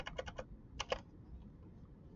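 Computer keyboard typing while entering a chart title in an Excel spreadsheet: two short clusters of quick, close key clicks, three or four taps each, followed by near silence.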